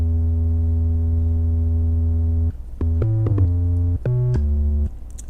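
A thick, buzzy low synth tone from FL Studio's Patcher drones steadily, then breaks into short stepped notes jumping between pitches before settling low again.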